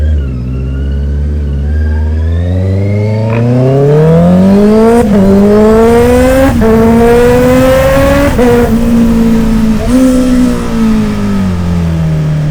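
A 660cc motorcycle engine revs up and down repeatedly, its pitch climbing and falling in long sweeps, loud and close throughout with no talking.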